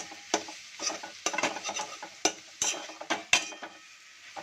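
Taro greens cooking with a hilsa fish head in a pan, stirred with a utensil that makes repeated scraping and clinking strokes over a soft sizzle, close and fairly quiet.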